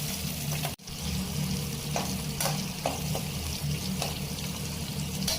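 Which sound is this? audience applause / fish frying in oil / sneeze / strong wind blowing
fish frying in oil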